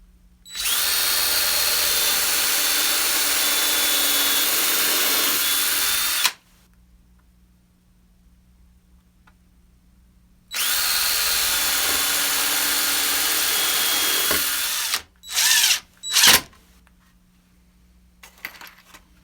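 A power drill bores into the wooden benchwork of a layout module in two long, loud, steady runs of about six and four seconds, then a few quick short bursts, with quiet pauses between.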